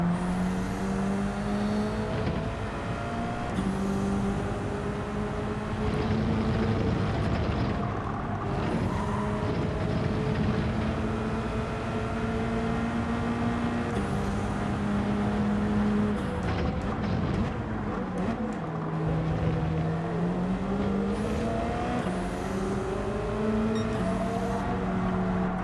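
Subaru BRZ racing in Gran Turismo 7, its engine droning steadily and loud as pitch climbs and drops through gear changes, with other cars audible around it and no talk.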